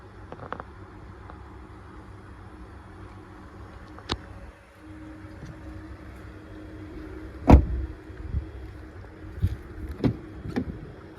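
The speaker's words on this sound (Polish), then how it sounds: "czujnik po zderzakiem, który, który e, reaguje na ruch nogi, ruch stopy, przepraszam, i zamyka bagażnik i otwiera również" Power tailgate of a 2018 Volvo V60 D4 estate closing after a foot-sensor kick under the rear bumper: a low steady motor whir with a few soft clicks, ending in a firm latching thud and some shuffling, no talk.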